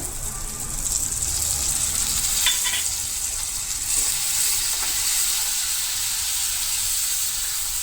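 Tomato puree poured onto roasted spices for a raw banana curry, a loud steady sizzle and hiss of frying with a few stirring scrapes, no talk.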